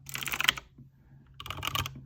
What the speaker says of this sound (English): The V3 Pro uses Razer's green switches, whereas the Mini uses Razer's yellow switches.